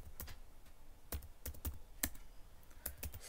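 Quick, uneven keystrokes on a computer keyboard while a password is entered in an Ubuntu 20.04 terminal, a dozen or so sharp clicks in irregular bursts, close and fairly quiet with no talking.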